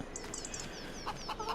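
Farm Sim 25 video game chickens cluck and chirp in short bursts, several birds at moderate volume over a steady farmyard background hum.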